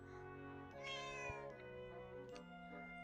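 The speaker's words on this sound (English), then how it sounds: "I've got a cat, apparently." A cat meows in the Zelda: Echoes of Wisdom video game, a harmonic, drawn-out in-game cry with no talk over it.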